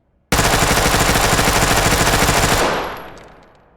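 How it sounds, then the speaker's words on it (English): A long, unbroken full-auto burst from a rifle in the tactical shooter game Ready or Not, loud and rapid for over two seconds, then trailing off into a fading echo, with no voices. "Firstly, I'm going to be firing the weapon on full auto."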